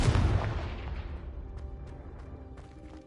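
A Confringo fire spell goes off in the video game Hogwarts Legacy, a loud booming blast right at the start that rolls off into a long, decaying rumble.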